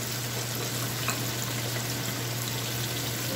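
Chicken breast frying in oil in a pan gives a steady, even sizzle that carries on without a break at moderate loudness, with no talking.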